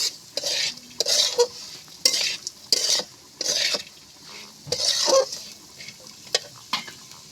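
Masoor dal lentils being stirred and fried in a pan, with repeated scraping strokes of a spoon against the pan in an irregular rhythm over a soft sizzle, close and fairly loud, without any talk.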